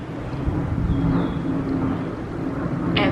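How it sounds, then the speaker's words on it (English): An airplane passes overhead outdoors as a low, steady rumble that swells slightly and holds across the moment, with no talking over it. "airplane, why? Shush."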